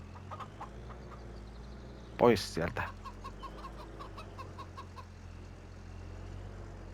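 A rooster in the Farming Simulator 25 video game lets out a brief burst of clucking, with scattered fainter clucks around it, under a low engine-like hum while someone talks quietly.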